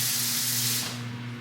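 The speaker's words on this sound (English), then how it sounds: "I just put them in a pot, add a little bit of water, and steam them" Broccolini steaming in a covered pot with a little water gives off a steady, close hiss that holds strong and then eases and softens toward the end, with a low hum underneath.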